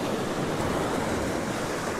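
Ocean waves washing and churning at the shore at 1770, Queensland, a steady broad rush of surf with some wind noise across the microphone.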